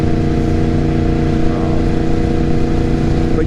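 A Yamaha MT-10 motorcycle engine pulls steadily in sixth gear, a loud, close, continuous harmonic drone with a slowly climbing tone, and nobody talks.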